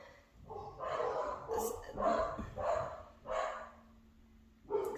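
Several dog barks from more than one dog in quick bursts, fairly close, with short pauses between them and a final yip near the end.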